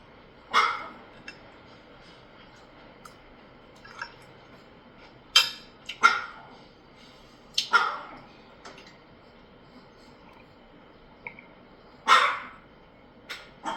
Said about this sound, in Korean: 요즘 왜 이렇게 짖는 거야?